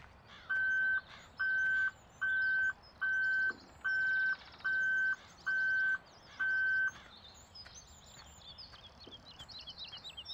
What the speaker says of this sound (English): just heard some beeping. A gold coin somewhere